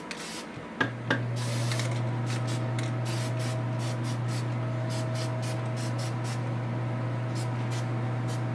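Testor's Dull Coat lacquer sprays from an aerosol can onto a painted Black Lantern Wonder Woman figure in a steady, close hiss that runs nearly unbroken for several seconds after a couple of short opening bursts.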